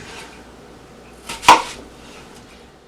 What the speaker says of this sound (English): The onion, we're just going to quarter it.